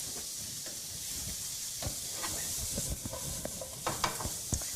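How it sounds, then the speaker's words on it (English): Butter chicken ingredients sautéing in a pan with chunky canned tomato sauce, a steady soft sizzle and hiss with occasional stirring clinks and scrapes, close and continuous with no talking. "so that's sauteing away"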